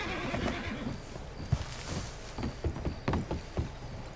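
Horse in a role-play video game, whinnying loudly and then clip-clopping with a run of hoof beats. No one speaks.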